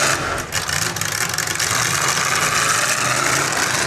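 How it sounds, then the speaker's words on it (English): A demolition derby car engine idles roughly with its carburetor loading up, a steady broadband rumble with crowd and arena noise around it at a live track event. "Carburetor seems to be loading up."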